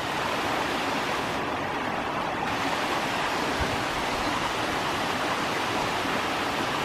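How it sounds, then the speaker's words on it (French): Steady rushing water flows continuously, a constant close wash of a small stream swollen after two days of rain, with no other sounds above it. "on va être le long d'un ruisseau, petit ruisseau"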